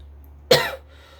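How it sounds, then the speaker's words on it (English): A single sharp cough bursts out close to the mic over a low steady hum, then trails into quiet room noise. "I had to literally go cough up my lung."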